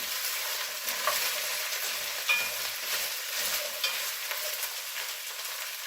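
Green beans with garlic fry in a pan for Greek fasolakia, a continuous close sizzle with soft stirring scrapes and a few light clicks, no voices.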